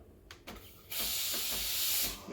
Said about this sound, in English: I'm going to quickly turn the steamer again